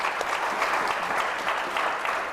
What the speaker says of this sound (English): Let me ask everybody to give them a round of applause.